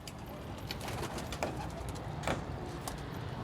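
Soft, low pigeon cooing from a Pakistani pigeon repeats quietly amid faint background noise and a few light scratchy taps.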